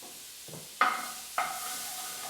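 Butter melting and sizzling in a pan with browned beef, a soft steady hiss punctuated by two sharper bursts as the fat hits and is stirred, heard close and alone.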